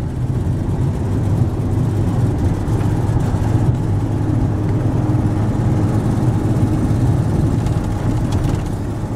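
A truck engine pulls uphill in third gear, with a steady, loud low-frequency drone and rumble that stays constant throughout, no speech over it.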